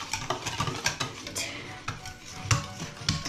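Sugar being stirred into a bun batter in a bowl, with close, continuous scraping and tapping of a utensil against the bowl in a busy rhythm.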